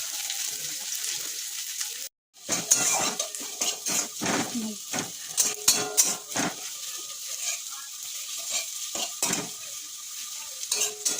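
Onions sizzling in oil in a pan under a constant frying hiss, with repeated clinks and scrapes of a spoon stirring against the metal, up close.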